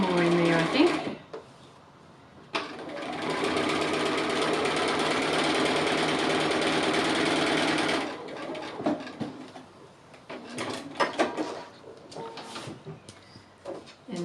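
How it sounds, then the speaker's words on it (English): A sewing machine stitches appliqué fabric for a small house design, a quick mechanical whirring run of several seconds between short bursts, with soft handling noises around it. "Just a little wiggle of the fabric as you're stitching."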